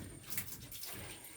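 Water piped down from a hill runs into an outdoor kitchen at a house on the edge of an equatorial rainforest, a soft, steady rushing stream heard alone at low level.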